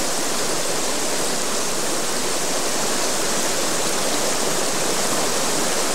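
A river flows under a single-arch stone bridge at an old watermill site, a loud, steady, broadband rush of water filling the whole span without pause, close and constant with no voices.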